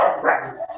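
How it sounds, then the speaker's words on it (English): A single dog bark sounds out loud and close in a brief burst, with no talk over it. "Oh, excuse my dog."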